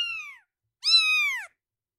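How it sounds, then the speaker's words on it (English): A young kitten cries twice, a short high meow followed by a longer, louder, strained mew after a brief pause, close and alone. "once they start making that cry, Eris just looks at me like, give it back."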